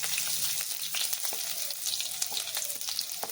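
Chopped onion and nigella seeds fry in hot mustard oil for a Bengali jute-leaf prawn curry, giving a steady close crackling sizzle with faint stirring scrapes and no voices.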